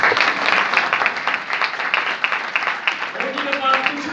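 A church audience applauds loudly and steadily in a dense wash of clapping, with a voice rising briefly near the end.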